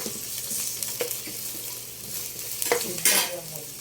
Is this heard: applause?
no